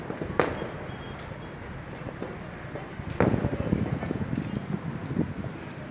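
Distant fireworks at a celebration near a mosque in Central Java pop and crackle in a couple of sharp bursts over a steady outdoor rumble, with faint voices in the background.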